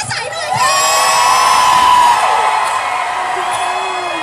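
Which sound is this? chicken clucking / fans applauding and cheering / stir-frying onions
fans applauding and cheering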